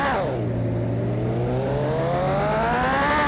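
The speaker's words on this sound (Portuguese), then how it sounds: "A moto é violenta pra subir de primeira marcha, mano." A Honda Hornet motorcycle accelerates hard in first gear, its engine note climbing steadily in pitch with a loud, continuous, close-up roar throughout.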